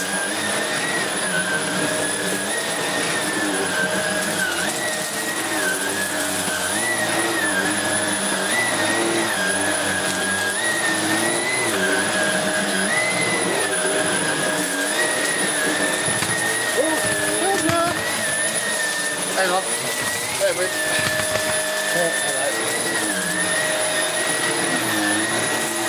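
A Vax Air Steerable Max Pets upright vacuum cleaner runs with a loud, steady, whining drone and high tonal hum, its pitch wavering slightly as it moves, close by, with someone speaking over it at times.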